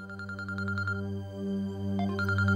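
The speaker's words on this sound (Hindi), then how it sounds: "नायाब की अम्मी का फोन है" Mobile phone ringtone playing in a Pakistani TV drama scene, a repeating melodic electronic tune of short bright notes over a sustained low background tone.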